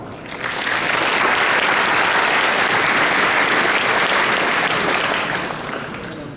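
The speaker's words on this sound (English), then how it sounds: "Can you give her a big applause?" A large audience at a Lunar New Year celebration breaks into dense, loud, sustained applause, rising quickly, holding steady for several seconds and tapering off at the end.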